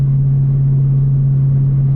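A 2018 Mustang GT running an E85 tune gives a steady, loud, close engine drone with a strong low hum, holding even throughout with no voices.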